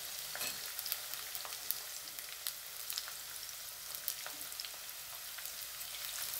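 Large-cut onions sizzle steadily in hot oil in a pan while cooking a chura (tuna) curry, with the faint crackle and occasional scrape of stirring, heard alone without talk.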